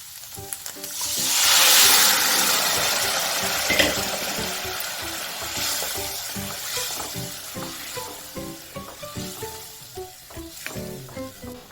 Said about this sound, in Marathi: आता आपण शिजवलेला राजमा टाकून घेऊया